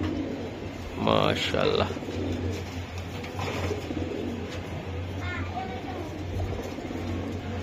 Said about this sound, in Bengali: এই যে দর্শক আমি আরেকটা কবুতর দেখাই